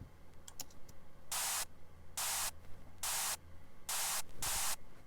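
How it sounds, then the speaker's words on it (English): White noise snare drum, a synthesized hiss burst struck five times in a steady beat, each hit a short bright wash of noise over a quiet background. "So we used a white noise snare drum, which essentially is just white noise"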